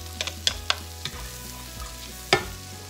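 Garlic going into a hot pan in a Swedish home kitchen, giving a steady, close sizzle marked by a few sharp clinks and taps of a utensil against the pan.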